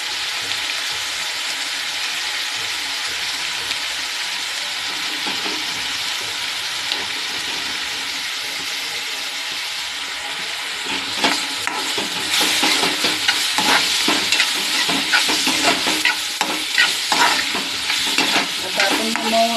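Tomatoes sauté in a pan with turmeric and homemade masala, a steady sizzle under scraping stirs that grow louder and busier toward the end, with no talking.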